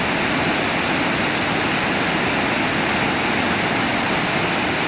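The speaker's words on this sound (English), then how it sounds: "So look at that waterfall." Steady, powerful roar of a large waterfall in Doi Inthanon National Park, Thailand, a dense broadband rush filling the whole clip with no voices over it.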